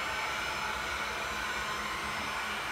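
A hair dryer blows steadily on a freshly poured splash painting, a constant close whooshing hiss with a faint motor hum, alone and unchanging throughout.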